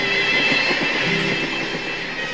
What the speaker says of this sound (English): The easiest way for visitors to get to Machu Picchu is by train